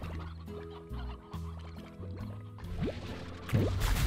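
Chickens cluck in the video game Slime Rancher, several short repeated clucks in an uneven rhythm, moderately close, with a brief watery pour near the end.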